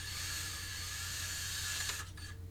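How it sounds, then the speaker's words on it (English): A small drill bores a hole through a Warhammer model piece, a steady high-pitched whirring that holds evenly and then tapers off at the end, close and alone. "It's drilling out the majority of the piece there"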